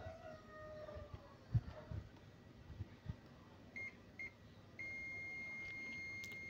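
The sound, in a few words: buzzer sounding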